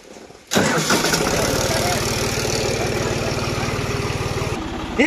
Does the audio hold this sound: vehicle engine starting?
yes